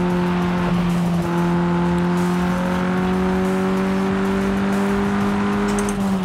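A car driving in Fortnite played on an old Xbox, its engine holding a steady droning hum with slowly rising pitch, loud and continuous throughout with no talk.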